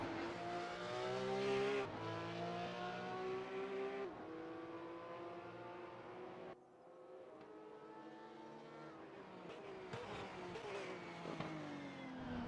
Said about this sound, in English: It'll be interesting to see what these cars can do on the big straightaways here